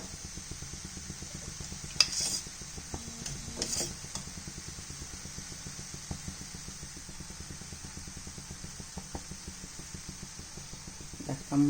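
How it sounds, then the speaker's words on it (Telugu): Ghee sizzling on a moong dal pesarattu with ginger and cumin cooking on a pan, a steady low crackle and fry throughout with a few brief utensil clinks, close and fairly quiet, no talking. "ఇప్పుడు దీని మీద కాస్త నెయ్యి వేసుకుంటే సూపర్ ఉంటుంది."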